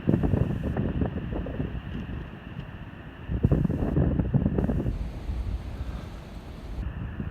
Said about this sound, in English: It's been windy and cold like this all day.